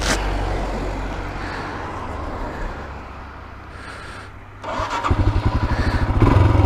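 A motorcycle engine turning over and catching, settling into a rough idle before revving into a loud, rapid, pulsing putter up close.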